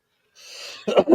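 A single person's sneeze: a breathy intake builds for about half a second, then bursts out in a short, sharp, close double expulsion.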